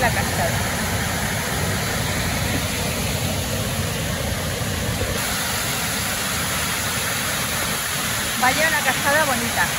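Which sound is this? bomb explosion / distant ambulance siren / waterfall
waterfall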